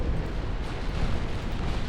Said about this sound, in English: Torpedo hits on my battle cruiser.